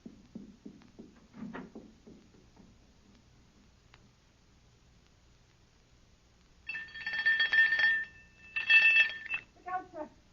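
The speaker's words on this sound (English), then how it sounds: "Ring the doorbell." Doorbell rung loudly in a radio drama, two bright electronic ringing bursts in the second half after a stretch of faint, muffled voices.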